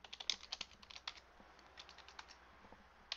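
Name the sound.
typing on computer keyboard, tab key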